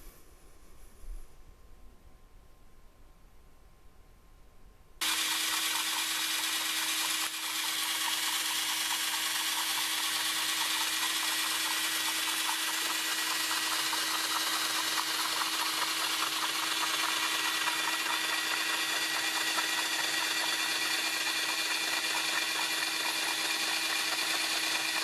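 A lapping machine starts after a few seconds of quiet and then runs on with a loud, steady broadband whir and a constant low hum, with no speech over it.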